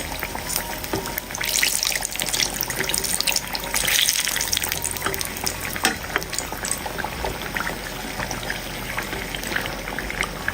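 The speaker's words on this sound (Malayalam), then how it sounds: "ചൂടായി കിടക്കുന്ന എണ്ണയിലേക്ക് ഓരോന്നായിട്ട് ഇട്ട് കൊടുക്കുക" Samosas frying in hot oil in a pressure-cooker kitchen setup: a continuous loud bubbling and sizzling crackle, dense and busy throughout, with no voices.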